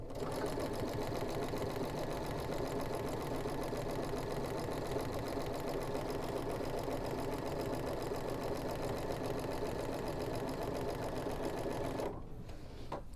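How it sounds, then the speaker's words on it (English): A domestic sewing machine stitches a quarter-inch seam on quilt blocks in one long, steady, close run of rapid needle strokes, stopping abruptly near the end. "Lower my presser foot, lower my needle, back stitch, and then sew my 1/4 inch seam."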